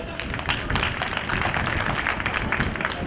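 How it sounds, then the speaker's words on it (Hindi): A large audience applauding at a public discourse, a loud continuous wash of many hands clapping for the full stretch, close and unbroken. "यदि उन महिलाओं के विचारों से आप सहमत हैं तो उनके सम्मान में तालियां बजाइए"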